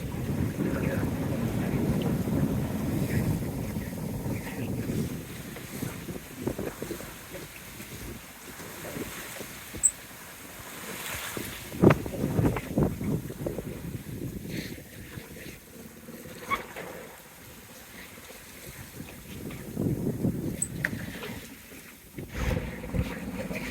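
A boat motors through ocean waves at about 10 knots near Port Macquarie, with a steady rushing wash of water and heavy wind noise across the microphone, rising and falling in surges.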